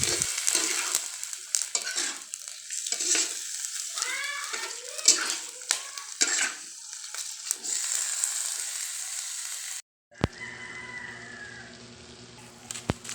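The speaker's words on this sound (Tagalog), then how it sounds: "At itatambog ko na rin po dyan yung atay. Hahaluin ko lang po at tatakpan ko rin po." Chicken liver adobo with onion and chili sizzling in a pan as a spoon stirs and scrapes, clattering strokes over steady frying, then a sharp cut to a quieter covered simmer.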